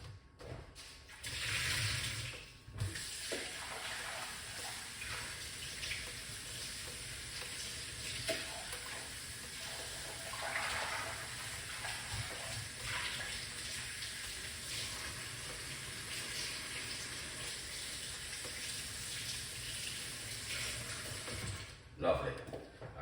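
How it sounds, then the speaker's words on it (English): Running tap water pours steadily over ginger and lime held under the faucet, a continuous hiss and splash in a kitchen, with a person talking over it at times. "I'm gonna wash off these ingredients, the ginger and the lime."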